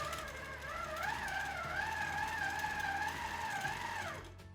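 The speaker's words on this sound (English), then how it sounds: "So now I'm going to sew just a little bit more." A QMP 16 quilting machine runs steadily for a few seconds, stitching with a continuous whirring motor hum that rises slightly in pitch before winding down at the end, close and without talk.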